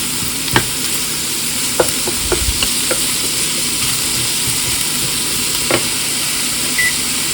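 Zucchini cooking in a pan on a stovetop burner at medium heat, a steady soft sizzle with a few sharp clicks and stirring taps scattered throughout.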